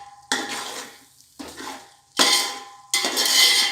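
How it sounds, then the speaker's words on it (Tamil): A ladle scrapes and clanks against a pot while biryani masala with coriander and mint is stirred and sautéed, bursts of metallic scraping coming in separate passes with brief quiet gaps, near and fairly loud. "அதனால் கொஞ்சம் பக்கத்துலேயே நின்று கேட்டில் கிண்டிகிட்டே இருக்கணும்"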